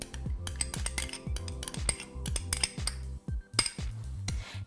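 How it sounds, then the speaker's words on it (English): A utensil clanks and scrapes repeatedly against a pan while tomatoes and tomato paste are stirred, with irregular metallic knocks and clinks close by and no talk. "So give that all a really good stir"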